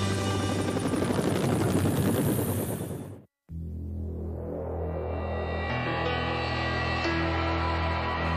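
A Vietnam medevac helicopter flying, its rotor throbbing loud and steady, cut by a brief dropout, then returning close with a strong low thump and high whine.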